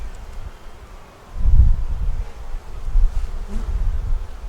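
Honey bees buzz around an open hive during an inspection, a soft steady drone with low swells and a few closer passes near the microphone.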